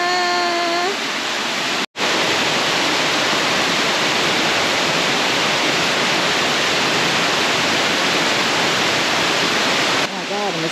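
Waterfall at the end of the Cross Island Track on a South Pacific island, a loud, steady broadband roar of falling water filling the scene, briefly interrupted once near the start, with no talk.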